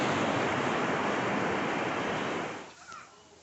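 Broad, roaring surf of ocean waves washing onto a Maui shore, loud and steady before fading out toward the end.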